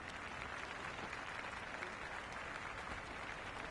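Steady, dense roar of a stadium crowd in the Cricket 26 video game, Gujranwala Rustams against Peshawar Zalmi in a Super 6 match, an unbroken wash of cheering and applause at even loudness throughout.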